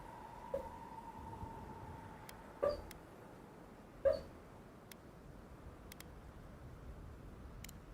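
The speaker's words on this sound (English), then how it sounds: "My dog's dreaming." A sleeping, dreaming dog gives a few faint, brief whimpers and yips, spaced a second or more apart, over a steady low background hiss.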